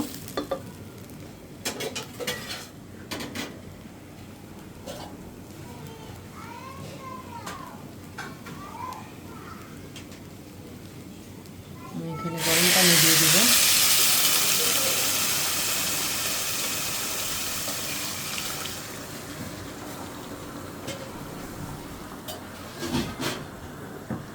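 Water hits a pan of fried pointed gourd with a sudden loud sizzle and steamy hiss that holds for several seconds and slowly fades, after quieter stirring and light clinks.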